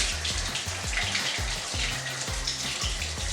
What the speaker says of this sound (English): Uh-oh, water's going everywhere.